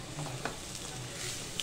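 Chopped ridge gourd sautéing and being stirred in a pan for a dal sabzi, a soft continuous sizzle broken by a few light clicks of a spoon against the pan, close and without talk.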